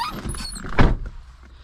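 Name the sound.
squeaky car door of 2010 Volkswagen Jetta SEL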